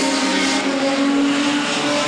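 Production sedans racing after the green flag at Collie, a dense, continuous engine roar with steady revving tones from the pack, loud and close throughout.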